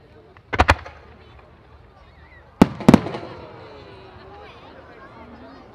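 Firework shells burst at a European fireworks demonstration in Abingdon, sharp booming pairs near and loud, with crackling decay and a murmuring crowd behind.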